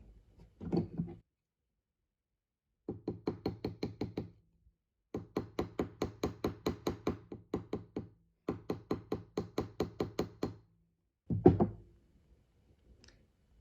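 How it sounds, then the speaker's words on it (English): Rapid bursts of light metallic hammer taps on a wire-wrapped pendant, struck in quick rhythmic runs of a dozen or more blows with short pauses between, close and crisp. "the final step for me will be hammering"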